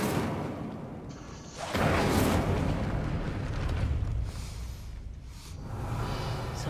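In Hogwarts Legacy, the Incendio fire spell goes off with a sudden booming whoosh of flame partway through, followed by lingering rumbling fire and smaller bursts.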